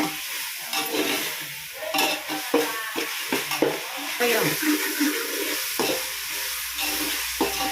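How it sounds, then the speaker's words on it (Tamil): Biryani ingredients sautéing in a large pot, with a loud continuous sizzle and frying hiss under repeated scraping stirs and clanks, close by, with some background voices. "நல்லா வதக்கிக்கலாம்."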